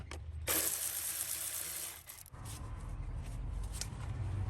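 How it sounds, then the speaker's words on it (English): A hose clamp is being loosened on the 5.7L 3UR-FE V8 engine of a Toyota Tundra during a secondary air injection valve swap. Quiet, close metallic clicking and ratcheting sounds are heard alone. "Just gotta loosen this clamp and it should come off."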